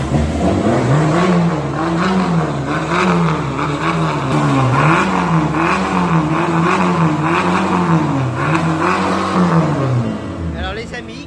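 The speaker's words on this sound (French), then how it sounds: "c'est un turbo diesel, un TDI 140. C'est pour ça que j'étais étonné par le bruit." Turbodiesel Audi A3 TDI 140 engine, tuned, revs up and down repeatedly in a loud, close rising-and-falling drone for about ten seconds, then cuts off.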